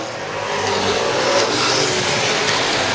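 Late model race cars roar around Star Speedway on the final lap of a feature race, a loud, continuous, dense engine wash with no break across the stretch.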